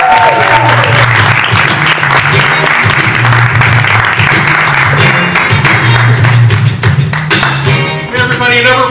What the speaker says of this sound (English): Please put your hands together for the one, the only, Malcolm Stanley.